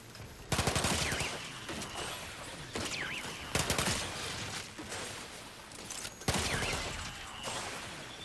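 Automatic gunfire from a hard-to-control weapon in The Outer Worlds. Loud, close bursts of rapid shots arrive in repeated volleys separated by brief pauses, with no talking over them.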